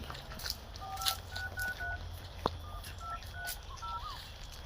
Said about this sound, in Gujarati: એને ફોન કરવા દે